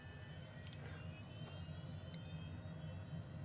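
A Honda Jet's engines hum in a steady, faint whine with a low rumble as the aircraft taxis in Microsoft Flight Simulator 2020.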